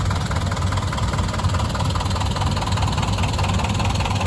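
A 1942 Silver King tractor engine runs steadily at a classic tractor show, a continuous low, throbbing mechanical drone with no talking.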